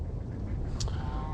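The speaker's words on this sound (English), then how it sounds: "this freaking duck's over here doing a belly roll flopper dopper or something" Near a fishing spot, a duck gives a brief quack over a continuous low rumble of wind and outdoor background noise.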